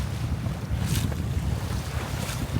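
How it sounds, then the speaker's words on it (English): Steady headwind roaring across the microphone on a boat on open water off Scotland's west coast, a low constant rumble with brief hissing gusts and splashing. "Wind on our nose this morning."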